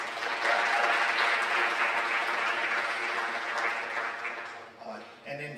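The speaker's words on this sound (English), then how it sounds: "Give them a round of applause, please." Audience applause fills a school senior awards night, a dense, steady wash of clapping that holds strong for about four seconds, then thins and tapers out near the end.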